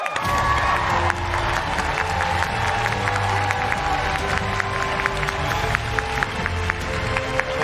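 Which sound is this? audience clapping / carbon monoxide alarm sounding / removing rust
audience clapping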